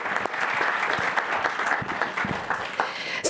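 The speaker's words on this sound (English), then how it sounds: "can we get a round of applause for our DPW drivers?" A county council meeting audience applauds the public works drivers, with brisk, close clapping and a few sharp individual claps popping out of the dense patter, fairly loud and without talk.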